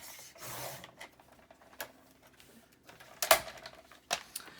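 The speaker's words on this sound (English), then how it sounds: "So I'm just reaching over here to the side of me where my cutter is. And I'm going to trim that off." A paper cutter trims paper for a small handmade Christmas journal, giving faint rubbing and sliding noises followed by a sharp cutting scrape near the end in a quiet room, with no talking.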